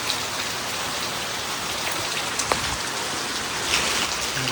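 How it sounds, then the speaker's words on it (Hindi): Heavy rain pours steadily in Himachal, a dense, even hiss of drops drumming on surfaces close by, continuous and unbroken with no voices. "बारिश ही बारिश।"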